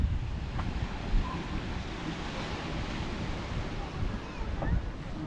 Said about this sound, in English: hopefully this wind isn't going to ruin the audio